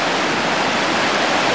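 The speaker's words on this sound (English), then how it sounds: "What we're now looking at is the actual river." A river rushes with steady, broadband flow, loud and close, its water pouring heavily past a levee deployment site with no voices over it.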